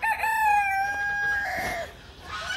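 Chickens on a small farm kept alongside goats: a rooster crows in a long drawn-out call, followed by several short clucks, close and loud with no talking.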